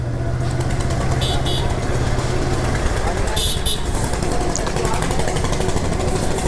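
An auto-rickshaw toots its horn in two short bursts amid loud road traffic near a busy village market, with people talking over the noise.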